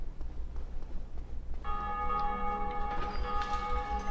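A bell rings in the video game Dark Souls, a steady sustained metallic tone that swells in over continuous low background rumble and holds to the end.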